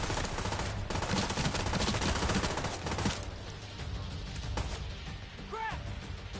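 Gunfire in the video game The Division 2: dense bursts of automatic fire, loud at first and then thinning into scattered shots.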